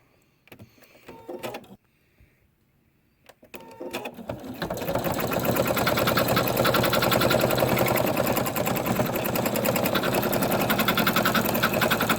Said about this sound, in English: I'm going to slow my machine down